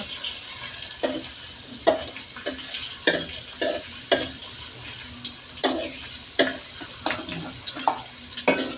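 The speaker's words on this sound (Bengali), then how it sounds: "এখন পেঁয়াজ নাড়া হচ্ছে, পেঁয়াজগুলো একটু ভাজা হলে" Onions sizzle in a pan while a utensil scrapes and stirs in repeated sharp strokes, with a steady frying hiss underneath.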